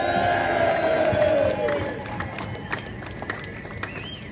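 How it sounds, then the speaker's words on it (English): A large union protest crowd at Martin Place in Sydney, rallying against cuts to injured workers' support, cheers and shouts loudly together, the roar fading over a few seconds into scattered calls and claps. "Give yourself a cheer."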